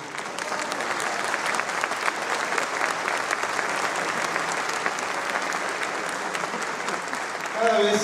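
A concert audience at a cultural centre breaks into sustained, dense applause, loud and steady throughout, with a few brighter tones near the end.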